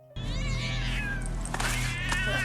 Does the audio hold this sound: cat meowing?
yes